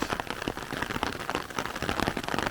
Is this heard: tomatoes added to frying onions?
no